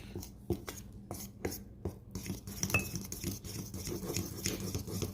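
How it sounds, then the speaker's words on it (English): A fork clinks and scrapes against a bowl while mixing confectioners' sugar icing with butter, with a few sharp taps early on, then a continuous stirring clatter, close and moderately loud. "So we're going to mix this butter up in here real quick."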